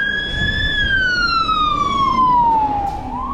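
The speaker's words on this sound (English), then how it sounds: "Oh, that's the fire engine." A fire engine siren sweeps past a cyclist on an early-morning road, a loud tonal wail gliding slowly downward in pitch as it passes and then recedes, over steady road and wind noise.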